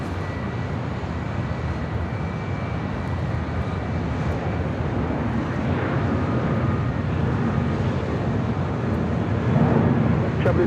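A United Airlines Boeing 757-300 jet on runway 24 left at Los Angeles International Airport gives a steady, broad roar that swells slightly toward the end.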